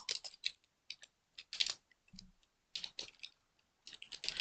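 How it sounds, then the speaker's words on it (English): Fingers tap on a computer keyboard nearby in short, quiet clusters of rapid clicks with brief pauses between bursts, and no voice over it. "Why am I typing this?"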